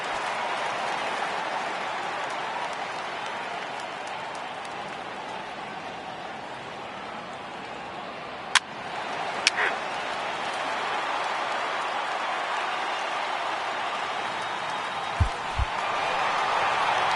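A baseball video game crowd roars steadily at a ballpark in a long, continuous wash of cheering, with a few sharp knocks and thuds cutting through and no clear speech.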